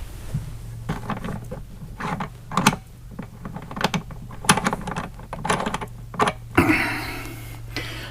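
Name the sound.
unscrewing part of a water filter system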